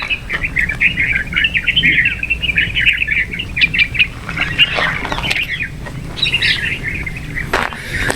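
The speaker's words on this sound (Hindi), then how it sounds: "पंछियों का कलरव सुनो" Many small birds chirp and twitter busily on a foggy morning, bright overlapping calls close by and continuous over a soft outdoor background.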